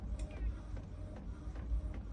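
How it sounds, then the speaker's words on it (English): An Epson ET-4800 inkjet printer printing in color at high quality onto fabric, giving a steady low mechanical hum with soft repeated feed clicks and shuffles across the short stretch, close and fairly quiet. "And I just sent it to the printer."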